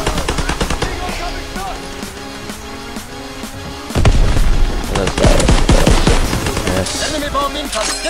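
Rapid automatic weapon fire from the World War II shooter Call of Duty WWII rattles in dense, loud bursts, growing heavier midway with overlapping shots and booms, and voices are faintly heard beneath.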